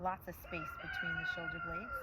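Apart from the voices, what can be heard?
rooster crowing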